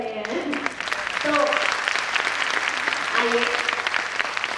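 An audience at a women's convention in Saharanpur claps loudly and steadily for several seconds, with voices rising over the applause.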